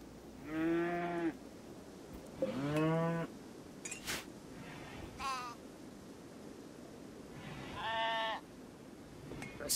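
Several sheep in the video game RimWorld bleat in turn, wavering cries spaced a few seconds apart over a quiet background hum.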